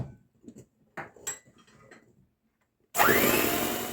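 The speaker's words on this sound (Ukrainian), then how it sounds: "Все збиваю міксером." After some quiet clinks and bumps, an electric mixer whirs on loudly near the end, a steady motor buzz as it whisks cake batter.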